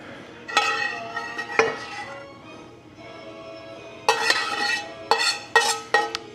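Onion, pepper and garlic sauté in a pan for a baked penne dish, with a soft steady sizzle under repeated sharp clinks and scrapes of a utensil stirring against the pan.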